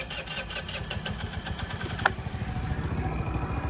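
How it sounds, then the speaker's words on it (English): A 2022 Scootstar 50cc scooter engine catches and settles into a steady, buzzy idle close by, with a single sharp click near the middle and no talking. "Start it. Just grab, just like a normal motorcycle, except it won't start unless you hold the brake."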